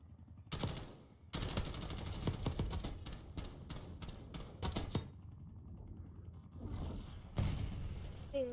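Video game sniper rifle fire with an HDR sniper, a burst of sharp shots followed by a rapid run of evenly spaced cracks, then a lull and one more close report, no voices.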